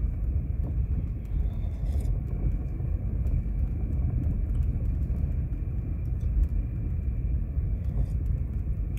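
Traffic passing near a workplace, a continuous low rumble of cars and engines with no distinct individual pass-bys, fairly loud and steady throughout.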